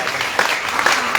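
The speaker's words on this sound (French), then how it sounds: "Applaudissez." An audience applauds steadily in a room, a dense wash of hand claps at constant loudness over the whole short stretch, with no voice on top.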